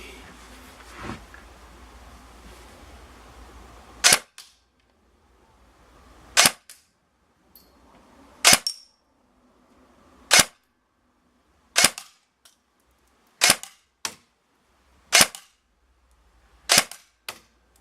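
An ASG Scorpion Evo 3A1 airsoft gun fires semi-auto at targets, giving eight sharp, separate cracks spaced roughly one to two seconds apart, loud and close, with a quiet background between shots.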